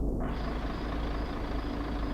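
Heavy truck engine in a driving video game, steady low diesel rumble with a brief air-brake hiss at the start, loud and continuous while reversing a trailer.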